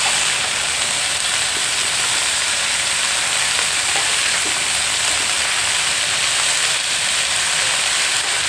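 Ivy gourd pieces fry with turmeric in a pan, producing a dense, continuous sizzle like steady rain. The sound is close and loud and holds an even level throughout, with no talking.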